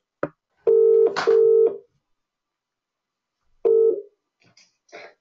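Telephone keypad dialing tones ring out for an outgoing call, a few clear steady beeps in short bursts separated by silence, close and loud, with faint clicks at the end.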